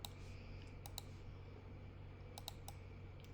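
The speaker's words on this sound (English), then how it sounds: "Now I'm going to use my cursor keys, those arrow keys, to move this around." Computer arrow keys pressed in short clusters of sharp, quiet clicks against a faint steady hum, with a pause between the bursts.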